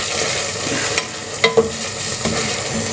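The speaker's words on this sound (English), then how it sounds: "It's not cooking violently, it's cooking fairly gently, just kind of simmering away." Risotto Milanese, a saffron rice dish, simmering gently in a pan: a soft, steady bubbling hiss with a few brief clicks and taps, close and fairly quiet, with no talking.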